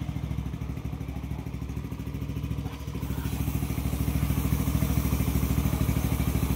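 Yamaha Nmax v1 scooter with a 63mm bore kit and stage 1 camshaft idling just after starting, a steady close rhythmic engine chug that grows slightly louder partway through, heard alone.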